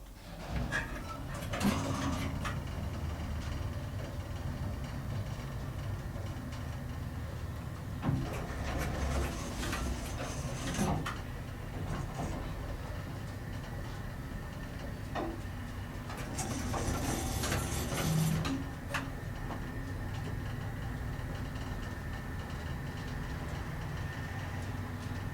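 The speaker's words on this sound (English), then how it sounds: "Listen to these relays" Scattered sharp clicks and clacks of relays in a 1954 Otis elevator machine room, irregular and moderately close over a constant low mechanical hum, with a few louder clusters of switching.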